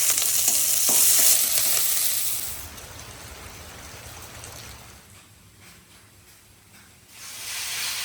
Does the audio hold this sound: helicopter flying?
no